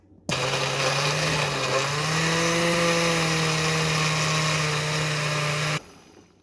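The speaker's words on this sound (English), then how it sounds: "we are going to blend it together to make another smoothie" A kitchen blender purees a fruit smoothie in one continuous whirring run of about five and a half seconds, starting and stopping abruptly, loud and close with no voices.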